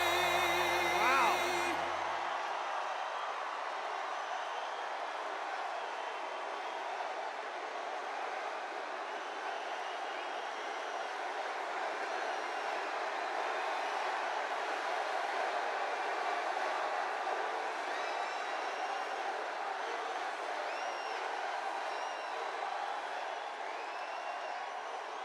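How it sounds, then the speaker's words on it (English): A large rally crowd in Uniondale, New York, keeps up a steady roar of cheering and shouting for a campaign speech, dense and continuous from start to finish with no clear voice rising above it. "This is a big crowd."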